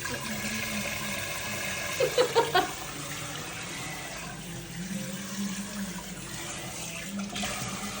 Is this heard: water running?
yes